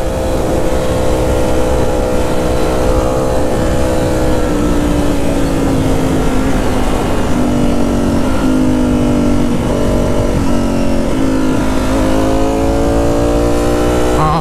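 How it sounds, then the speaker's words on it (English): A Ducati Streetfighter V4 S with an SC Project titanium exhaust revs loudly and steadily, its exhaust note rising and falling through several throttle blips with no talking. "how spicy we get with this exhaust"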